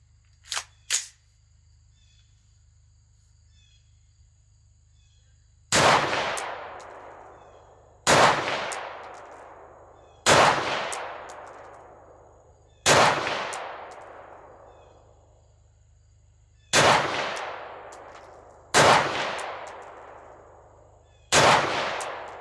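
Firearm gunshots ring out one at a time at irregular intervals, eight sharp cracks in all: two quick ones at the start, then after a pause six more, each loud and close with a decaying ring-out.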